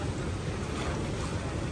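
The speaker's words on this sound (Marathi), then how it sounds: "गोदावरीला भरपूर प्रमाणात पूर आला आहे" Floodwater on the Godavari river rushes in a continuous loud broadband roar, steady and unbroken, with wind buffeting the microphone.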